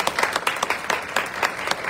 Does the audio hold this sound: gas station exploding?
no